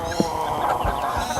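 Chickens cluck and murmur in a coop, several birds close by in short irregular calls over a steady background hum.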